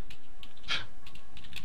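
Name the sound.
clicky computer keyboard typing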